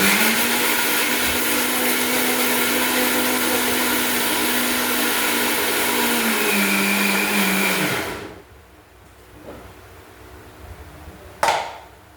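A mixer grinder blends a ripe jackfruit mixture with a loud, steady whirring whine for about eight seconds, then cuts off, followed by a few faint clicks and a sharp knock.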